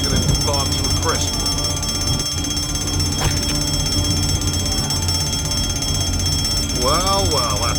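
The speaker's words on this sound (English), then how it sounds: "Ah, crap, the fire alarm." A fire alarm rings with a steady, continuous electronic tone that holds throughout, sitting under voices and background noise.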